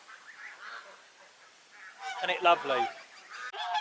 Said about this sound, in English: The geese are doing well. Look how big they've got.